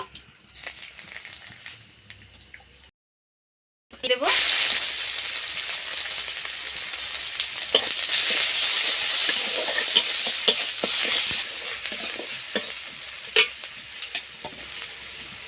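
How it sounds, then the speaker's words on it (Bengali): Two bay leaves dropped into hot oil left over from frying fish and potatoes: a brief quiet start, then a loud close sizzle and crackle under repeated stirring scrapes, with no voices. "একই তেলে প্রথমে দুটো তেজপাতা দিয়ে দেব"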